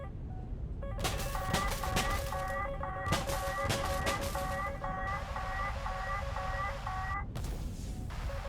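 An aircraft fires in the air combat game War Thunder, a loud, steady roar with beeping warning tones repeating over it for several seconds, no voices.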